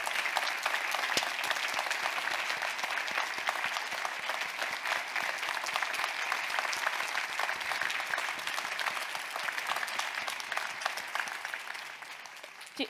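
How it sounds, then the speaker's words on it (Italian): Steady audience applause at the press conference for the 60th edition of the Salone del Mobile in Milan, a dense, even wash of many clapping hands sustained throughout without pause. "Un applauso a Armida Armellini."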